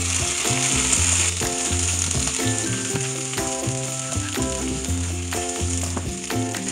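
Chopped piquillo peppers dropped into melted butter in a pan over medium heat, frying with a bright, steady sizzle over rhythmic clacking and scraping of a utensil.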